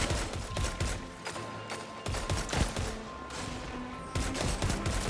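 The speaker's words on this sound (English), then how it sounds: "they're all taking turns team shooting me" Gunfire from teammates in a video game, with a sniper rifle in play: dense, repeated shots and bursts crackling through a steady game mix, loud and close throughout with no talk.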